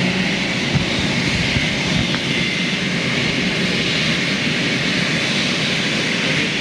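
Boeing 747-8 cargo jet engines firing up on the ramp give a steady, broad roaring hiss with a faint rising whine, continuous and fairly loud, with no talking.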